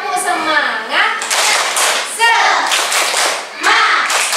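Children and a teacher perform a rhythmic group clap routine in a classroom, with bursts of clapping in patterned beats alternating with shouted chanting voices, loud and close.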